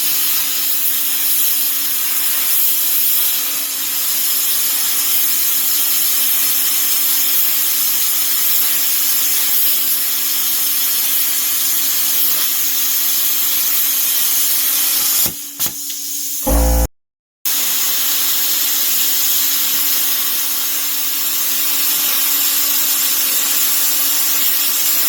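A power saw cutting through a quarter-inch-thick wooden board, a steady loud whining grind that runs almost continuously, broken once by a brief cut-out and restart, with no talking.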